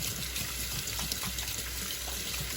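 Tap water runs steadily into a kitchen sink for hand washing, a soft, continuous rushing splash at low level, heard alone with no voices.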